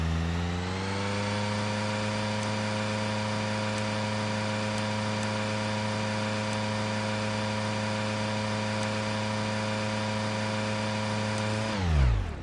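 A simulated car engine in the ELECTUDE training simulator holds a steady, tonal, buzzing drone for several seconds, then briefly surges and winds down at the end.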